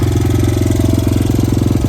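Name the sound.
dirt bike engine running with new exhaust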